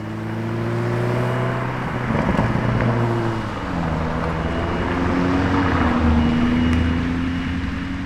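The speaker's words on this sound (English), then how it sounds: "Let's go, Revuelto!" A Lamborghini Revuelto supercar drives past nearby, its loud engine note rising and falling with shifting pitch as it goes by, dominating the whole stretch.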